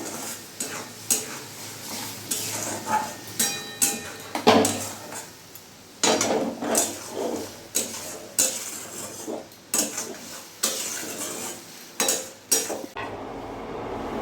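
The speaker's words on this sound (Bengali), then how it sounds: "এবার ভালো করে আমি কষিয়ে নেবো।" A paste of salt, turmeric, chilli and cumin sautéed in a pan over a full gas flame, with repeated scraping strokes of a spatula against metal under a constant sizzle, the stirring rhythmic and close.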